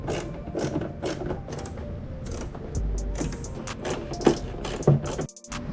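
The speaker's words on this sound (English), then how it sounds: "I like to hand screw them in first and just finish it off with the T30." A ratchet driving a T30 Torx bit tightens the screws of M Sport side skirts on a BMW F30 328i, giving quick runs of close, crisp clicks with short pauses and some mechanical creaks.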